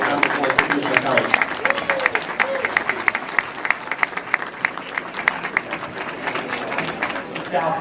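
A crowd at a Flatbush community event gives a round of applause for the police commissioner, with sharp, fairly close clapping and a murmur of voices running underneath.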